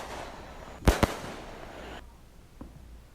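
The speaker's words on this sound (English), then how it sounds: "I honestly could just sit here and watch fireworks or videos of fireworks all day" Fourth of July fireworks go off, two sharp close bangs in quick succession followed by a fainter distant pop, against a quiet outdoor background.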